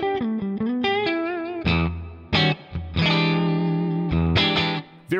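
Electric guitar played through a HoTone Ampero II Stage modeler with plate reverb, distorted chords and single notes ringing out in bursts with short gaps and a smooth reverb tail.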